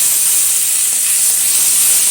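Whole cumin seeds and chopped tomato hit hot oil for an egg curry, producing a loud, close, continuous hissing sizzle with no speech.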